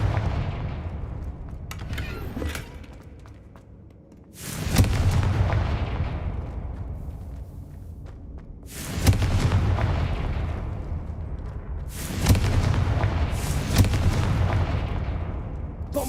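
Confringo spell blasts in a Harry Potter video game: four heavy booming explosions at roughly four-second intervals, each hitting loud and tailing off into rumbling decay, with lighter crackles in the gaps.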